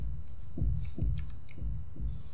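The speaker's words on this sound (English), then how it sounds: "Hear the heartbeat?" A heartbeat pulses in the horror game Inside the Backrooms, five slow, low, muffled thumps evenly spaced about half a second apart, under a faint high hum.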